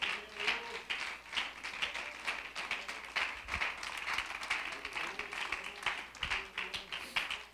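Church congregation standing and applauding in praise of God, a lively burst of clapping with irregular rhythm that carries on under a voice and music.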